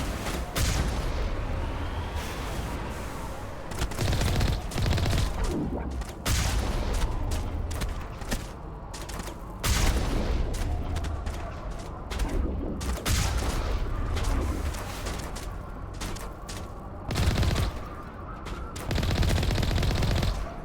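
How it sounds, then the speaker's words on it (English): Sustained gunfire exchange in the Mass Effect video game, with rapid automatic bursts and sharp shots crackling almost continuously and loudly for the full stretch, briefly easing in places before erupting again. "Someone is shooting at me. I think we need to shoot back at someone."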